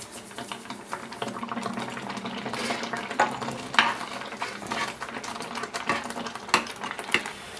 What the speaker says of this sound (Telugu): ఇప్పుడు దీనిలో ఒక అరగ్లాస్ బొంబాయి రవ్వ వేసుకుని కలుపుకోవాలి